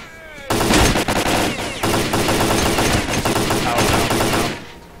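Rapid automatic gunfire in the video game Stalker: Clear Sky, loud and sustained for several seconds in dense bursts with brief breaks, ending in a short tail.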